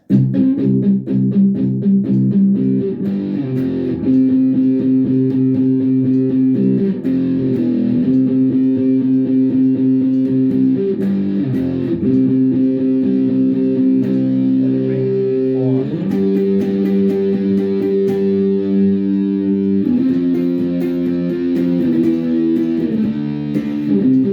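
A steady guitar rhythm strums through a verse, with sustained, slightly distorted chords changing every few seconds and no voices.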